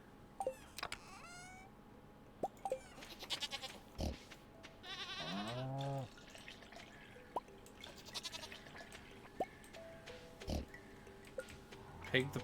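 Farm animals in the modded video game Stardew Valley, with a goat's bleat among short cries and a longer wavering call in the middle, all set against soft clicks and chimes of game sound effects.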